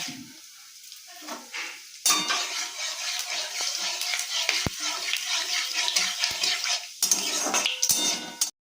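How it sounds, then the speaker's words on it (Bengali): Cumin seeds and bay leaves dropped into hot oil in a kadai, giving a bright crackling sizzle that swells after a couple of seconds and carries on steadily, with a few metallic clinks of a spoon against the pan. "কড়াতে তেল দিয়ে দিয়েছি, তেলটা গরম হয়ে গেছে। ফোড়নে আমি দিয়ে দিচ্ছি জিরে আর তেজপাতা।"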